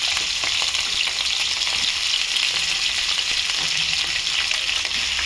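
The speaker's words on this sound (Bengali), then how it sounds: "আলু আর পেঁয়াজটা ভেজে নিয়ে ফিরছি, গ্যাসের ফ্লেমটা জোরে দেবো, ভালো করে ভেজে নিয়ে ফিরছি" Potatoes and onions fry over a high gas flame in oil in a wok for quick mutton curry, making a loud, dense, unbroken sizzle close by with faint stirring knocks and no speech.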